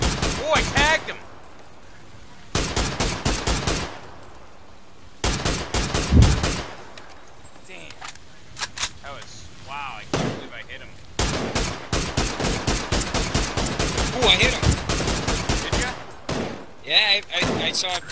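Video game gunfire, including a shotgun, sounds in loud repeated bursts of rapid shots separated by quieter gaps, with players talking over and between the volleys.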